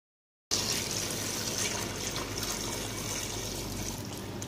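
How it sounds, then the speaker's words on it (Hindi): Water pours steadily into a cooking pot for pulao rice, a continuous splashing stream starting abruptly after a brief silence and holding at even loudness throughout. "चावलों के लिए पानी शामिल कर दिया है"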